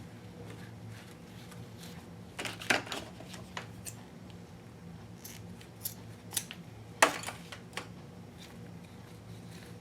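Scissors snip through material for a handmade board book, giving a few sharp, close cuts spread out among quiet handling noises, with no voice.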